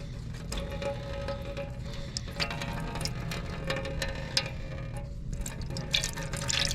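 Water draining steadily from the gear case of an old 1970s Hatz diesel roller compactor, a continuous close trickle and splash with occasional drips, no speech over it.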